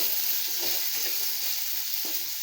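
Chopped onions sizzle steadily in hot oil in a pan for a yellow pumpkin sambar, a constant bright crackling hiss with faint stirring underneath.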